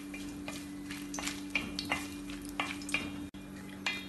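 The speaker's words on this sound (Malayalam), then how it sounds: "5 ഗ്രാമ്പൂ, 2 കഷ്ണം പട്ട, 1/2 ടീസ്പൂൺ പെരിഞ്ചീരകം, ഇതെല്ലാം ചേർത്ത് ഒന്ന് ഇളക്കി ഫ്രൈ ചെയ്യാം." Cloves, cinnamon sticks and fennel seeds fry quietly in a clay pot for prawn biryani, with soft sizzling under a run of light, rhythmic spoon scrapes and taps.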